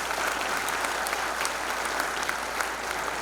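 An audience at a university degree ceremony claps for a family, a steady, dense and fairly loud patter of many hands with no talking.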